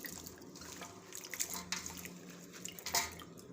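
Cut potatoes for chips are swished and rinsed by hand in a bowl of water, with soft close sloshing and scattered splashes and drips.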